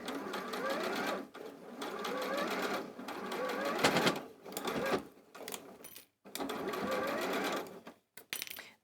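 A sewing machine runs close up, stitching a seam across the centre of a small Christmas star project in several long bursts of fast, even whirring separated by brief stops, with no voices over it.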